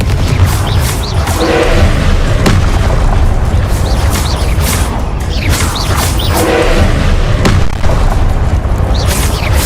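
Rapid Confringo spell blasts in the video game Hogwarts Legacy, a loud, continuous barrage of booms and crashes with whooshing bursts in dense succession, with no pauses.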